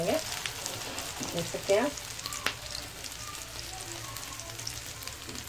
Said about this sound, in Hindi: ये देखिए एक साइड फ्राई हो गए हैं, अब मैं इसे टर्न कर रही हूँ, दूसरे साइड भी बहुत अच्छे से पक जाएंगे